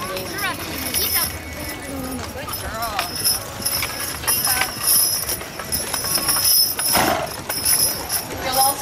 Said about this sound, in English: Trot your horses, please. Trot.